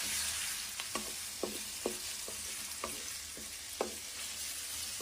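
Chopped onions fry in a hot pan with a steady broad sizzle, broken by about nine sharp scraping clicks of a spoon or spatula stirring them, fairly quiet and with no speech.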